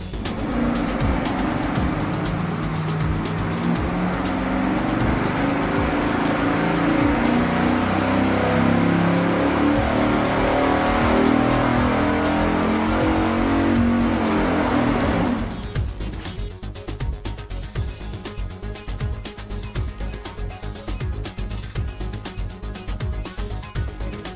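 A V8 engine fitted with block hugger tubular headers revs hard on a dyno test stand, a loud sustained roar that cuts off abruptly into a rougher, lower idle rumble, with no talking.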